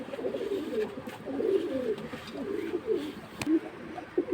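A khaki and silver pigeon pair coo in repeated soft, throaty bursts close by, with a faint voice now and then.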